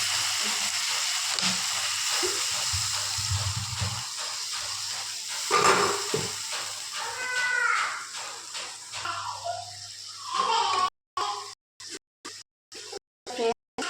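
Water poured into fried masala spice paste in a pan for a Bengali fish curry gives a steady loud hiss and sizzle that rises and settles, with a short burst of spitting near the middle. Choppy interruptions follow near the end.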